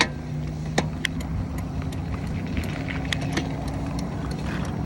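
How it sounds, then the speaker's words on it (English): A truck engine rumbles steadily nearby as it drives past on a hill, a low continuous drone with occasional clicks and rattles, no one speaking. "Let this truck go by."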